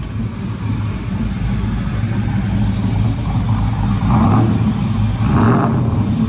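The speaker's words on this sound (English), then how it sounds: "Rev it up, bro." A nitrous-equipped Chevrolet S10 truck engine runs loud and close with a deep, steady drone, swelling briefly in two light revs toward the end.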